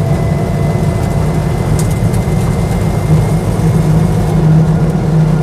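The engine of a Land Rover Series 1 86in drones steadily while driving, pulling from low speed in high gear, with a constant loud, low rumble and a faint whine and no talk.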